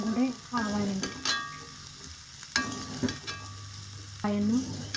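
A spatula stirs a white cowpea and coconut thoran as it fries in a pan, making intermittent scraping strokes over a soft, steady sizzle, with a few clearly separated stirs.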